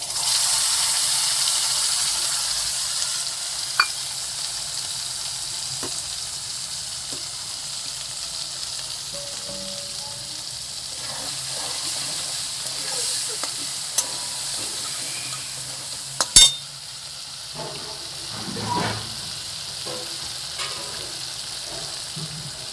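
Cumin, ginger and green chilli paste with turmeric and chilli powder frying in a pan, a steady low sizzle with faint hiss throughout, broken by a few brief clinks and stirring sounds.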